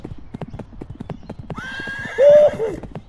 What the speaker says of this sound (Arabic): اقول لهم شوف عندي خيل